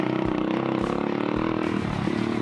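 A 110cc motorcycle engine being ridden drones steadily and close, a rough continuous buzz with slight shifts in pitch and clattering over the whole stretch.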